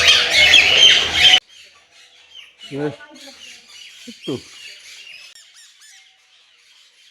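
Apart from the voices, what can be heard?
birds squawking in garden, including cockatiels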